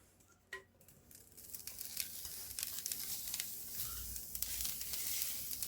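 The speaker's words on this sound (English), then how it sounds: "then you're going to put them into your frying pan." A soft drop of lion's mane mushrooms into a frying pan, then steady hissing and crackling as they sizzle up close, growing fuller and more constant.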